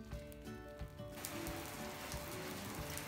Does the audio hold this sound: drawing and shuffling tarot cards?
no